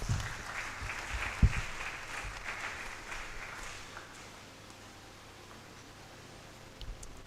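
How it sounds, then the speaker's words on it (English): Applause from an audience at a university science and technology fair, a thick round of clapping that gradually thins and fades to scattered claps and room noise. "Let's sustain the applause, please."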